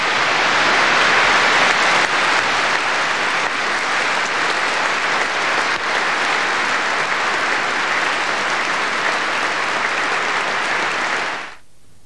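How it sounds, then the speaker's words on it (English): Sustained applause fills Westminster Abbey at Princess Diana's 1997 funeral, a loud, dense roar of many hands echoing through the vast stone interior, holding steady for about eleven seconds before cutting away. "applause slowly swelled around Westminster Abbey"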